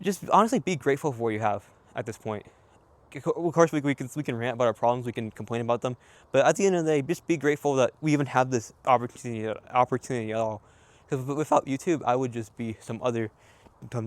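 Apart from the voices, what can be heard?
No everyday noises stand out.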